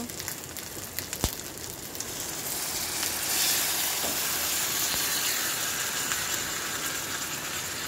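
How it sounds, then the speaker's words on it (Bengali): Marinated chicken with spices hitting a hot pan over a medium flame, a steady broadband hiss and sizzle that swells slightly after a few seconds and continues unbroken, with no one speaking. "এবারে ম্যারিনেট করা চিকেনটা দিয়ে দেব।"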